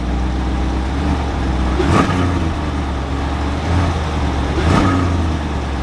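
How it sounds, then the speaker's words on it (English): A 6.2-liter naturally aspirated V8 car engine idles with a deep, steady rumble, giving two brief gentle revs that swell and fall back, close and loud. "I'm gonna give it a little baby rev."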